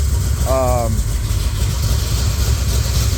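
A 1970 Chevrolet Nova engine idles steadily at a little under 1,000 rpm after carburetor adjustment, a low even rumble close by throughout, with a brief tonal squeal early on.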